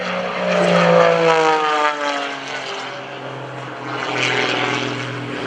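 An aerobatic propeller airplane performing rolls at an airshow over Greenwood Lake, its engine droning loudly with a strong tone that rises and falls as it climbs and maneuvers, heard alone and fairly close.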